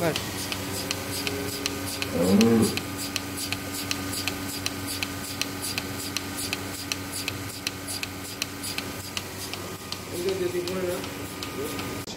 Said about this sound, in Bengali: আপনারা এই খামারে তো আগে তো হাত দিয়ে দুধ দোয়াতেন, এখন মেশিন কেন নিলেন?